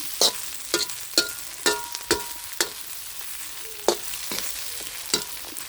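Glass noodles and egg frying in a pan, a low steady sizzle broken by repeated sharp scrapes and clacks of a utensil stirring, roughly every half second, close up.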